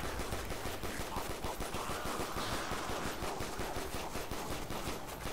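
Rapid automatic gunfire from a zombies video game with infinite ammo, a dense unbroken stream of shots rattling on for several seconds at steady volume, with no voices.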